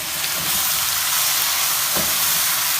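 Finely chopped tomatoes dropped into a pan of hot oil with garlic and ginger, giving a loud continuous sizzle and hiss with a brief stirring scrape partway through.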